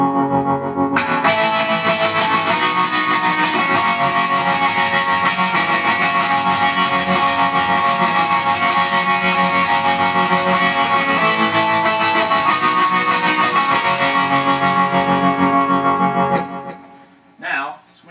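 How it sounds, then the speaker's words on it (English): Distorted electric guitar rings out steadily for several seconds with a pulsing, wavering tremolo effect, then cuts off abruptly near the end. "Then I use the FX2 for the tremolo."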